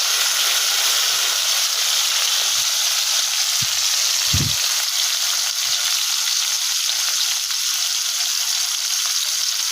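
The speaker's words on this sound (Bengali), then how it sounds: "কড়াই গরম হয়ে গেলো, তেল গরম হয়ে গেলো, মাছ দিয়ে দিলাম।" Rohu fish fries in hot oil in a wok, giving a loud, dense, continuous sizzle that fills the whole stretch, with a couple of low thumps partway through and no voices.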